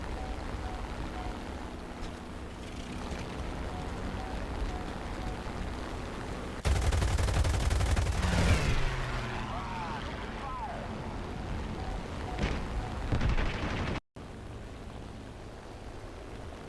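Bf 109 F-4 fighter plane in the War Thunder air combat game: engine drone with a loud burst of machine-gun fire in the middle, then a sharp cutoff and quieter engine hum.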